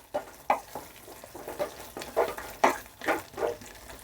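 Tomatoes frying in a pan for a red tomato chutney for idli are stirred with a spoon: close, quiet sizzling punctuated by irregular scraping strokes roughly every half second, with no talking.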